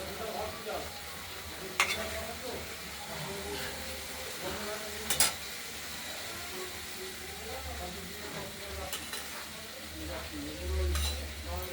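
Raw hilsa fish fries in a spice paste, a quiet continuous sizzle with soft stirring scrapes and occasional sharp clicks, while people talk over it.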